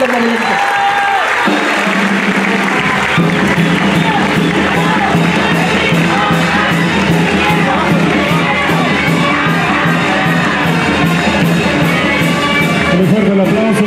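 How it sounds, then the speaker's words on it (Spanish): A crowd at a swearing-in ceremony in Morelos applauds and cheers loudly and continuously, with shouts and whoops mixed into the dense clapping. "Un fuerte aplauso, señoras y señores, amigos todos"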